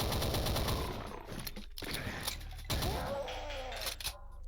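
Gunfire in the video game Paar, rapid shots over a dense, busy game soundscape, loud and close, broken by brief pauses.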